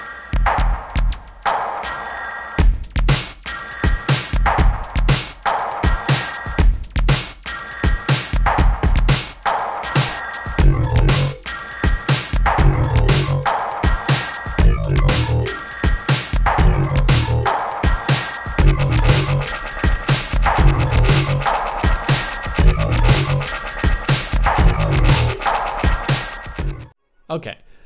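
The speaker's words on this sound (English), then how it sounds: "Okay, so that's basically the Freddy synth is this purple lane" A Golden Freddy synth demo made with the Thor synthesizer in Reason plays as a loud, dense electronic track with a steady pulsing beat and repeating bright tones, then stops abruptly near the end.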